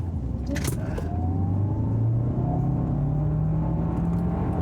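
A 2025 Hyundai Santa Fe hybrid SUV in sport mode hums steadily under load accelerating uphill, its pitch rising gradually, with continuous road and tyre noise throughout.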